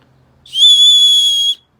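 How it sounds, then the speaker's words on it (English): Leatherman Signal survival whistle blown once, a loud, piercing, steady high tone held for about a second with a clean start and stop, alone in near silence. "the Leatherman signal, it's got a whistle on it, and it's actually pretty loud."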